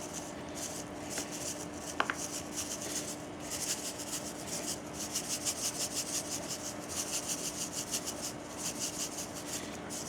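Coarse salt rubbed by hand onto raw short ribs, a steady gritty rustling with regular rhythmic strokes, close and fairly quiet, with no speech.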